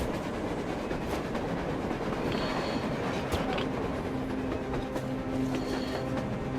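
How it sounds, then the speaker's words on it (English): A train rolling across the surface in the post-apocalyptic game Metro Exodus: a continuous rumbling roar with clattering wheels and faint metallic squeals, steady and moderately distant, with no talking. "A train! A damn train on the surface!"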